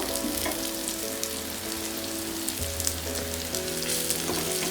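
Okra, onion, aubergine and potato with gravy fry on a hot tawa while being stirred together, a loud continuous sizzle with a slight shift midway as the mix is turned, close and without talk.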